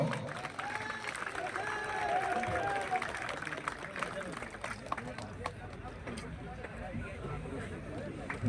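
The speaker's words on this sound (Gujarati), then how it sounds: "એકવાર જોરદાર તાળીઓ." Applause from a crowd at an honoring ceremony during a dayro folk music event, a dense patter of clapping mixed with voices and general hubbub, moderately distant.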